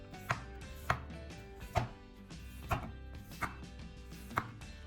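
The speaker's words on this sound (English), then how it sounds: "Cut potatoes fast without sticking to the knife." A knife chops through potatoes on a cutting board in six sharp, evenly spaced strikes, close and crisp, with no talk.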